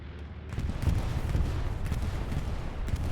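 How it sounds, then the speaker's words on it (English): Bombing run in a World War II style war video game, with dull booms and rumbling blasts rolling together into a steady, dense roar of distant explosions and gunfire. "Here comes the bombing run."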